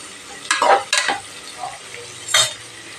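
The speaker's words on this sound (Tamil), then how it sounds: "வெங்காயம் நல்லா வதங்கி வரட்டும்." Onions sautéing in a pan for vegetable biryani, with a few distinct stirring scrapes and bursts of sizzle over a low steady frying hiss, close and moderately loud, no talking.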